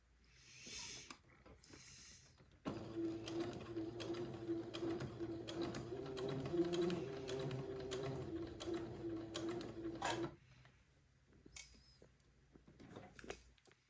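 Domestic sewing machine stitching the curved neckband of a baby gown, a steady motor whir with rapid needle ticking for several seconds, starting and stopping cleanly amid quiet handling noises.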